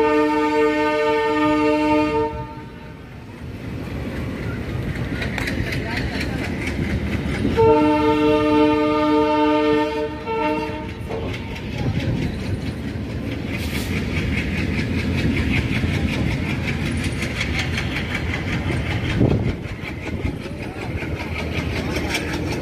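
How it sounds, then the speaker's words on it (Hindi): Passenger train 04760 on the Suratgarh–Sri Ganganagar line pulls out of Jaitsar railway station, its horn blasting twice in long sustained tones over a steady rumble of engine and rolling wagons, heard from aboard. "जैतसर से हमारी ट्रेन चल चुकी है"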